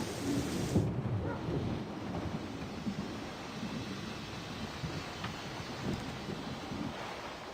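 Thunderstorm in Syberia: The World Before, with a low rumble of thunder at the start rolling into a steady wash of rain and wind that continues without a break.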